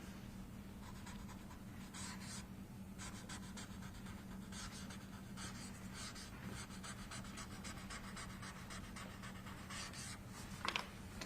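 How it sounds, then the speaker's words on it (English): Sharpie marker squeaking and scratching on paper in short strokes, several bursts of writing over a steady low hum, fairly quiet and close. "I love the sound of that Sharpie hitting that paper."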